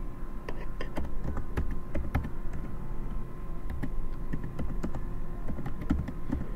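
Computer keyboard typing in a quiet room, a steady run of close, crisp key clicks with uneven rhythm and occasional heavier keystrokes, no voices.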